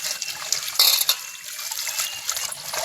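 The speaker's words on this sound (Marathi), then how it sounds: "मी करडीची भाजी धुवून घेते" Safflower greens being rinsed by hand in water, with steady splashing and trickling close by, a brief louder slosh near the middle, and no talking.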